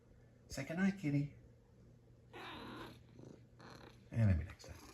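Pet cat purring softly in a quiet home, a low steady rumble beneath several short bursts of nearby speech.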